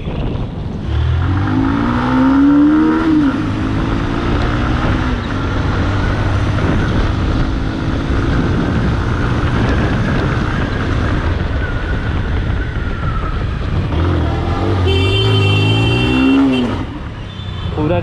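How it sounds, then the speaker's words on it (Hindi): Motorcycle engine revved hard toward the rev limiter: rising and falling engine whine sweeps early and again near the end, under constant loud wind buffeting from riding. "गाड़ी को रेड लिमिटर तक खींचने ही लगोगे आप"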